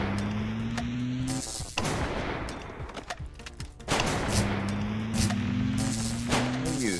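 Gunfire in the game Screencheat comes as sharp repeated cracks in quick bursts, loud and near, with a sustained rising electronic tone running under the shots and a short lull in the middle.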